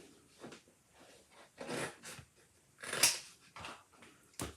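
Scissors cutting around a piece of glitter heat transfer vinyl, a few quiet, close crisp snips and rustles separated by short pauses.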